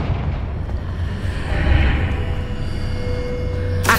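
Confringo blasting spell exploding in the Hogwarts Legacy video game, a low rumbling boom with a burst near the middle and a sharp crack at the very end, all without speech.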